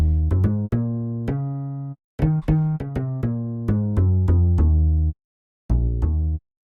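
Acoustic bass preset from FL Studio's built-in sounds playing a plucked bass line, a string of clear, close notes in an uneven rhythm with a couple of short pauses, heard alone without voices.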